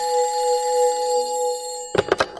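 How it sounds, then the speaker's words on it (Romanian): An old-style telephone bell rings continuously in a radio drama, then a few sharp clatters follow as the receiver is lifted. "Ridică receptorul și el tot mai sună."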